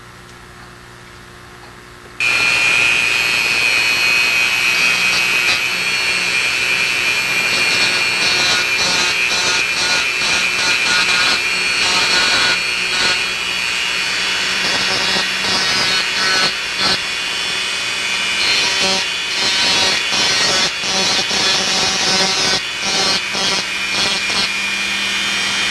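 Dremel rotary tool grinds excess glue from around the distal end hood of an Olympus fiber endoscope, a loud continuous high whine starting after a brief quiet moment and holding steady with slight wavering.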